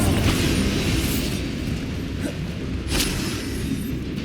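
A Confringo fire spell explodes in the Hogwarts Legacy video game, heard as a dense, loud burst of rumbling blast noise with sharp crackling flares, sustained throughout over low booming game audio.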